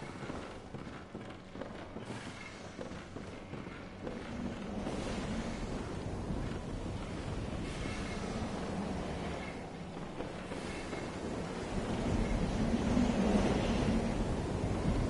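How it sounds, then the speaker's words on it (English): Wind blows through the Forbidden Woods in the Bloodborne video game, a low, rumbling gusty roar that swells slowly and grows louder toward the end, with no talking. "Oh, it's windy. I wondered what that noise was."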